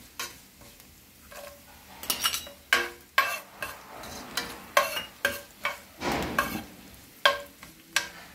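Mustard seeds and spices splutter in hot oil for a tempering, sharp popping crackles bursting irregularly over a faint sizzle, growing busier as they go.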